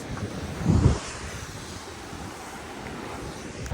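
Sea breeze buffets the microphone at the Odesa seaside, a brief louder gust near the start easing into a steady low rush of wind with faint surf beneath.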